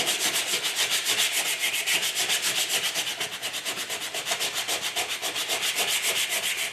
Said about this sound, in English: Want to sand it.